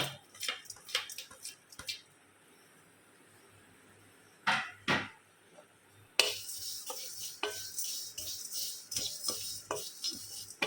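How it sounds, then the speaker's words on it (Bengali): Lata kasturi spice dry-frying in a kadai, heard as scattered scraping and clinking stirs that give way to a steadier hiss with repeated utensil taps in the second half. "এবার এই কড়াইতে লতা কস্তুরিটা আমি ভেজে নিচ্ছি"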